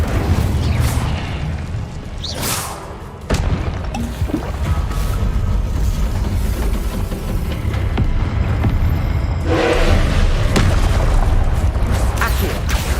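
An Incendio fire spell is cast in Hogwarts Legacy, producing loud whooshing bursts and booming roars over a constant rumbling bed of game sound, with a fiery surge near the start and another swell toward the end.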